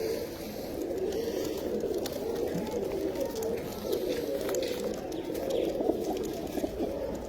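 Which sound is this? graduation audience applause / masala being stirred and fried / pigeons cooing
pigeons cooing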